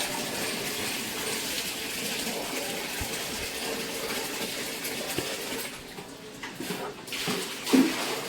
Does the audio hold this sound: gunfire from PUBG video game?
no